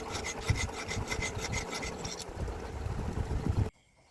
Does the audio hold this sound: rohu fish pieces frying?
no